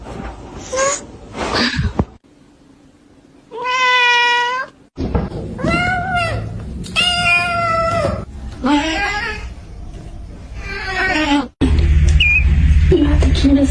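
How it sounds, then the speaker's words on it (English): A cat gives several short, clear meows separated by pauses, close and fairly loud, with other small rustles and noises between them. "You have the cutest little meow."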